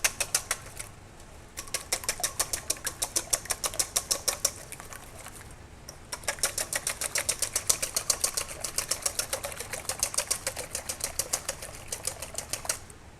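A whisk beats heavy cream in a bowl with fast, regular metallic ticking, close and crisp, in two long bursts separated by a brief pause.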